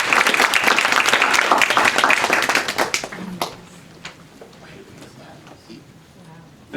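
Audience applause at a Texas family legislative briefing, a dense burst of many hands clapping loudly for about three seconds before fading into scattered claps and room murmur.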